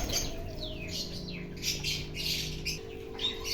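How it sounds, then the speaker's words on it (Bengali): Pigeons in a nesting colony on a farm on a rainy day give scattered squawks and calls over a constant low hum, the calls fairly faint and irregular with no voices present. "এই কলোনির পায়রাগুলো কাউকেই কেউ বিরক্ত করছে না, যে যার মতো নিজের মতো রয়েছে, মাঝে মাঝে ডাকাডাকি হাঁকাহাঁকি করছে"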